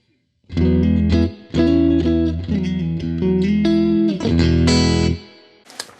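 Electric guitar played through an AmpliTube 5 amp simulation, a pedalboard feeding the amp with a Fender reverb and Neve EQ in the loop; loud distorted chords strummed in several bursts, then a brief pause and a final faint strum.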